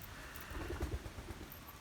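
Pigeons coo softly in a loft, a few low, faint murmuring calls over a quiet background.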